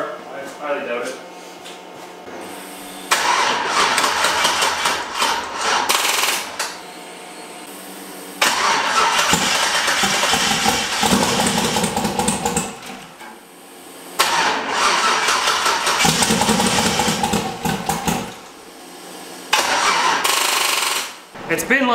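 A turbocharged LS engine with a battery drained by a faulty alternator cranks in several loud, rough bursts separated by pauses, each attempt chugging and roaring up close, with voices talking around it.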